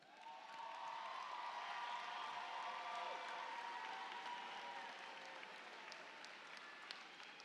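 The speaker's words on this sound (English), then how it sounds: "let's give them another round of applause" Sustained applause fills a graduation commencement ceremony, a dense even clapping from a large audience that holds steady for several seconds and fades slightly at the end, heard from some distance with no talk over it.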